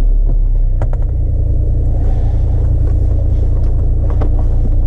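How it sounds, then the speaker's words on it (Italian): A 2017 Kia Sportage engine starts and settles into a steady, loud idle rumble close by, with a few brief clicks over the running motor and no talk. "accendiamo l'auto"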